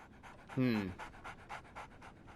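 A dog in the game Sherlock Holmes: The Awakened pants in quick rhythmic breaths, close and fairly soft, with a brief vocal sound near the start.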